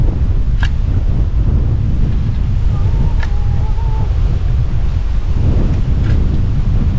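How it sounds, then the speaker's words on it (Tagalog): Strong northeast monsoon wind at a riverside spot roars loudly and continuously, buffeting the microphone with a dense low rumble for the whole stretch and no pauses between gusts. "sobrang hangin dito. Binabagyo ng anong amihan."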